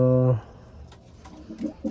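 A domestic pigeon coos in short, soft, low bursts near the end, right after a brief voice at the start.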